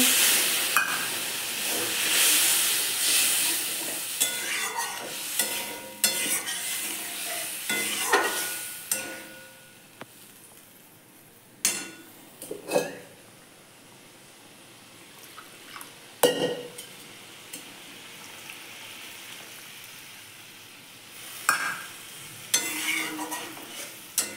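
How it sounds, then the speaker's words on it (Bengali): Tilapia in mustard and poppy-seed paste with two slit green chillies sizzles loudly in a pan as water goes in, a burst of steamy hiss that fades over several seconds, followed by scattered scraping stirs and clinks. "এরপর আমি জল দিয়ে দিচ্ছি"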